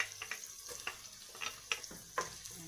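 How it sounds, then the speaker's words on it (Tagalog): Chopped onion and garlic sautéing in a pan for Filipino pork menudo, a soft steady sizzle broken by irregular clicks and scrapes of stirring, close and fairly quiet, with no talking. "Papulahin lang natin saglit yung ating sibuyas at ang ating bawang."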